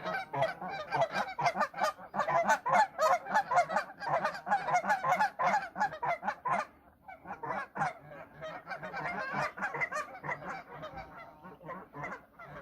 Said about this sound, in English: Those are the geese from earlier.